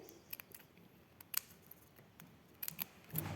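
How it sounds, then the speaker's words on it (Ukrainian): Scissors make short straight cuts into paper for a children's appliqué craft, a scattering of faint, crisp snips and clicks at an uneven pace in a quiet room. "надрізати отакі прямі надрізи ножицями"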